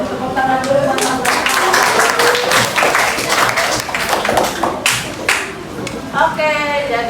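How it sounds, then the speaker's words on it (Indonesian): A classroom of students clapping for a classmate named Adam: a dense, steady patter of many hands that runs throughout, with voices and chatter mixed in. "Oke, tepuk tangan dulu teman-teman."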